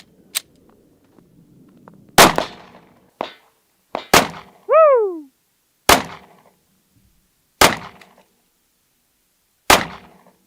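.50 caliber rifle shots fired at a Tesla Cybertruck target, six sharp, loud cracks spaced a second or two apart, with a short whistling ricochet-like tone after one shot and quiet gaps between.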